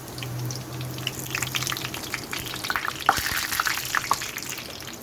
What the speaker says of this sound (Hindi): फ्राई कर रही हूँ, आप लोग चाहें तो इसको डीप फ्राई भी कर सकते हैं।